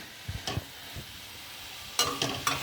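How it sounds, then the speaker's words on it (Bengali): Onions fry gently in a pan under a soft, low sizzle, with a few brief scrapes and stirring clacks in two small clusters. "এখন পেঁয়াজটা ভাজছি।"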